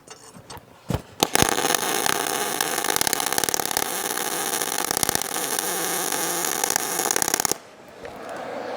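A MIG welder runs at a 475 wire feed speed, giving a loud, close, continuous crackling buzz that starts with a few sputters, holds steady for several seconds, then cuts off abruptly.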